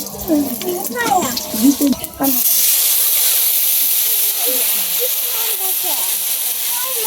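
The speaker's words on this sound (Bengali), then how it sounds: "জিরা সম্বার দিতেছি" Cumin seeds hitting hot oil for tempering, a sudden loud hiss that settles into a steady frying sizzle, close by, after someone speaks briefly, with faint voices continuing underneath.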